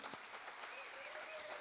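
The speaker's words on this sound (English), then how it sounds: "Let's just give another round of applause for a wonderful spoken word artist." A live audience at an education summit applauds a spoken word artist, a brief burst of steady, dense clapping from a moderate crowd, heard alone.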